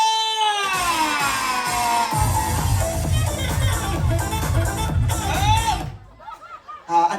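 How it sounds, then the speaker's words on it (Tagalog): A crowd at a 70th birthday celebration cheers, shouts and whoops loudly for several seconds, voices overlapping, before the noise drops away into scattered calls. "Palakpakan may sigawan!"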